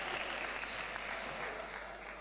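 Steady applause from an audience at a live singing performance, a dense even wash of clapping that holds at constant level throughout, moderately distant and without distinct voices.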